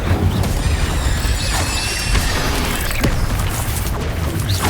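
Incendio fire spell cast in Hogwarts Legacy gameplay, a loud dense burst of roaring, crackling flame and booming magic that fills the whole stretch with whooshing texture and no speech.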